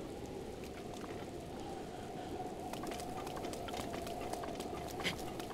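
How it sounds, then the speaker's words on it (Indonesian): Steady rain pattering in a Zelda game, a soft continuous hiss of falling drops that holds at an even level throughout, with no voices. "Aduh, hujan lagi"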